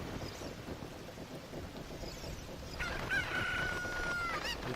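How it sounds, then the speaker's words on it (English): A rooster crows once in a long cock-a-doodle-doo in a secret area of Zelda: Ocarina of Time, rising clearly over a steady rain-like background hiss partway through. "There's a chicken."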